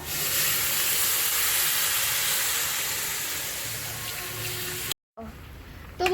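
Water pours steadily into a cooking pan after frying vegetables with salt and turmeric, a loud sustained hissing rush that fades slightly, cuts out abruptly, then gives way to quieter kitchen sounds.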